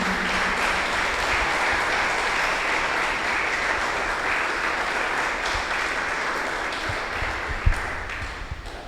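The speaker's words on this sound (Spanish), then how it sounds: "Vamos a brindarle un fuerte aplauso a nuestros invitados especiales de esta mañana." A church congregation applauding special guests during a morning service, steady sustained clapping filling the room for several seconds before tapering off.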